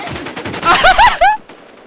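Gunfire in the video game Infest: a short burst of rapid shots and a few sharp reports, loud and close, that drops off into near silence.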